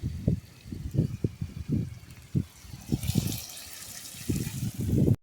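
Water poured onto a budding clematis plant in a garden, making an uneven splashing and trickling sound with irregular bursts, fairly close, which grows into a brighter gush toward the end.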